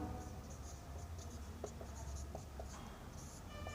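Marker or chalk writing on a board during a teaching session, soft scratchy strokes and small taps in short bursts, close-up over a low steady background hum.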